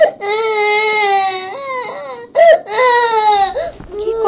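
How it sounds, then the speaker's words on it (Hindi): A child cries loudly and continuously in drawn-out wails, with a brief sharp sob in the middle, close by and alone. "आगे उसको रोने की आवाज आई।"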